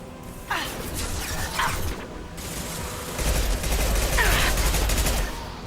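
Rapid gunfire bursts in the video game Mass Effect 2, loud and close, with crackling shots and mechanical clatter layered over a low rumbling background.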